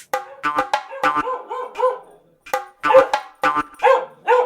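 Dogs bark and yip close by in irregular bursts, with short pauses between the barks.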